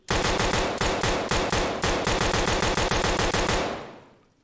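Rapid pistol gunfire in a video game, a loud, fast rhythmic string of shots fired in close bursts for about four seconds before the sound trails off, with no talk.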